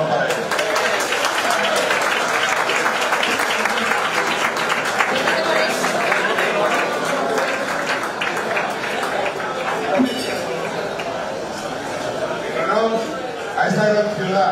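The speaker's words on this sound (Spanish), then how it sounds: "Un aplauso, por favor, para él." A crowd applauds steadily and heavily for a long stretch at a live show in La Línea, with cheering and voices mixed in.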